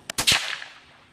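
A single sharp rimfire rifle shot fired from a magazine-fed rifle, a loud close crack with a quick double report followed by a short fading echo.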